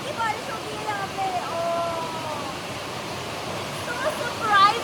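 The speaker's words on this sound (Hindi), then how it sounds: "ओह माय गॉड पानी की बारिश हो गई है यहाँ पे।" Steady rain hissing as a dense, even wash of noise in the hills around Chakrata, with voices briefly talking over it.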